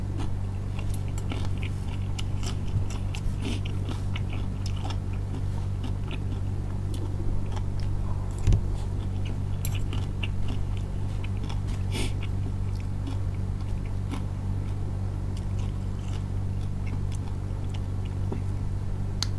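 Crisp, repeated crunching of fresh raw vegetables dipped in shrimp paste chili sauce, eaten close up alongside grilled mackerel, with a steady low hum underneath and no talking.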